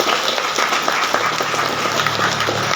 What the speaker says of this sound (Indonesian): Jadi tepuk tangan buat Anda semua.